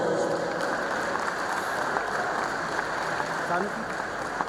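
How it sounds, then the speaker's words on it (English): Audience applause at a university inaugural lecture, a continuous even wash of clapping from a sizable hall crowd, steady in loudness from start to finish. "Please give her a round of applause."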